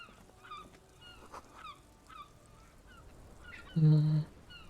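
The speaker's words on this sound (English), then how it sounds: "chirps, clicks, swallows fill the air." Swallows chirp and click in the ambient birdsong of the video game Disco Elysium, with quick, faint, scattered calls followed by a louder honk-like call near the end.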